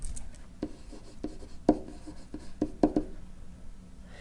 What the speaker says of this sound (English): now I'm going to write that on there